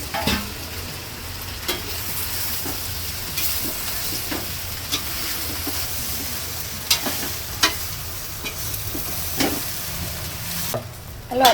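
Oil sizzles steadily as dhokla (bottle gourd muthiya) is stirred into a mustard seed and asafoetida tempering, with close, continuous frying hiss broken by sharp, irregular clicks of a spoon scraping the pan.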